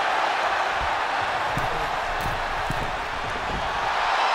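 A dense, steady crowd roar fills a WWE 2K22 wrestling match between Shawn Michaels and Randy Savage, loud and continuous throughout with no clear breaks.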